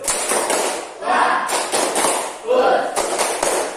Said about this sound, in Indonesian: Beri tepuk bagus untuk Serle. Tepuk bagus.